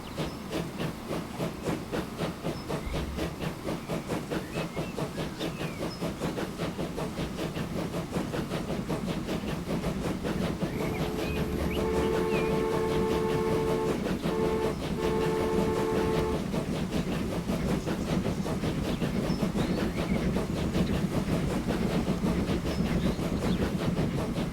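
A train rolls along the rails in Transport Fever 2, a steady rhythmic clickety-clack of wheels with a continuous rumble, and a horn sounding in several short blasts midway, with no talking.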